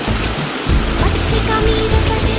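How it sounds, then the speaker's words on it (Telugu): Flooded Pageru river rushing past, a loud continuous roar of churning water filling the whole moment without a break. "చూడండి మా పాగేరు నది ఎలా ఉప్పొంగుతుందో చూడండి ఫ్రెండ్స్"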